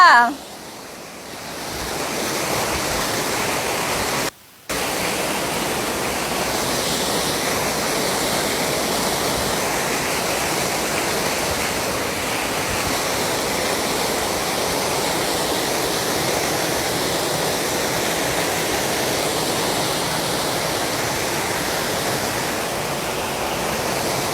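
Steady, loud rushing of falling water from the sixth tier of the nine-tier waterfall in Suan Phueng, Ratchaburi fills the whole span, a constant broadband roar without pause.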